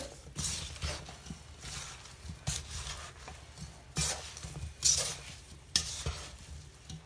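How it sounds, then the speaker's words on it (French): A spoon scrapes and stirs through a pot of cassava leaves with eggplant and fish, giving irregular close rubbing and knocking strokes with a couple of sharper clinks against the pot's side. "Je vais mélanger le tout. Comme ceci. Comme ceci. Je mélange."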